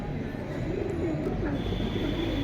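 A male pigeon coos softly in low, rolling murmurs over a steady background hum, close by.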